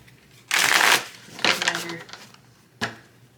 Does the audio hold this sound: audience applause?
no